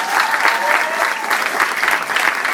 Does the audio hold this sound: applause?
yes